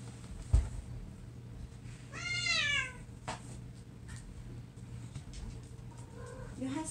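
A female cat in heat lets out one long, wavering meow that rises and bends, faint and indoors, preceded by a single dull knock and followed by quieter room noise.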